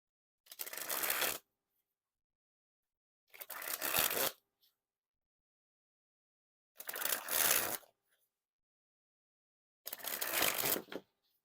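Bicycle Astronaut playing cards sprung from hand to hand, four separate crisp fluttering bursts about a second each, evenly spaced with near-silence between, close and fairly quiet.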